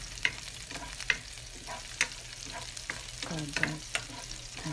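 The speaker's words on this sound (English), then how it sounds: "stir fry garlic first until they turn brown" Garlic stir-fries in a pan for a pork, bamboo shoot and pak gayang dish, a constant close sizzle punctuated by sharp spatula clacks against the pan roughly once a second, with no talk.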